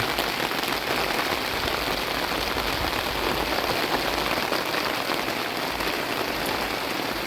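Heavy rain pelting a car roof, heard from inside the vehicle while camping at Khao Kho's wind farm, a loud, unbroken hiss and patter of drops that stays even throughout, with no voices.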